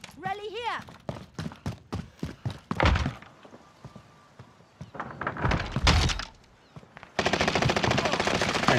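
Gunfire in a Call of Duty match: rapid bursts of shots and thuds, some loud and close, others fainter, ending in a sustained stretch of heavy firing, with players talking over parts of it.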